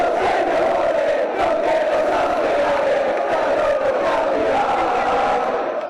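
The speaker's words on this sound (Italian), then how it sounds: "esplode l'urlo di gioia dei tifosi" Thousands of basketball fans gathered before a big screen at Porta San Tommaso in Treviso roar in joy as their team returns to Serie A, a dense, sustained crowd cheer with shouting that stays loud and unbroken throughout.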